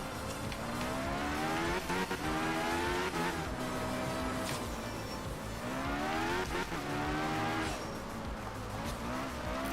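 A rally car in Art of Rally revs hard through repeated gear changes, the engine note climbing and dropping in rising sweeps, with tyres squealing and skidding at intervals on loose surfaces.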